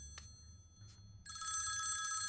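A telephone rings in a quiet room: a couple of faint, brief ticks, then a steady high electronic ring starts up and continues, fairly loud and alone.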